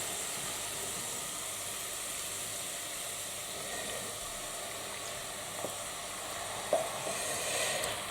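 Peppers hit a hot chilli pan, giving a steady, moderately loud sizzle and hiss throughout, with a couple of small clinks near the end; no one speaks.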